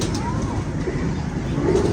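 Flying pigeons, kept by a pigeon fancier, coo loudly and close by in a continuous throaty murmur over a busy background, with faint voices underneath.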